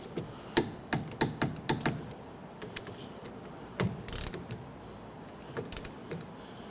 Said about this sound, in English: Torque down the caliper bolts for your slide pins to 16 foot-pounds